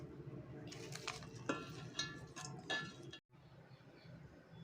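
Mutton biryani marinade being mixed with mint, herbs and fried onions in a pot, giving a steady close scrape and clatter of a spoon against metal with a few sharper knocks, then a brief pause before the mixing resumes.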